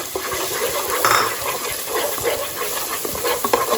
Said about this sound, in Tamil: ஆனியன் பொன்னிறமாக சவந்தவுடன் 2 முட்டை உடச்சி வச்சதை ஊற்றுங்க.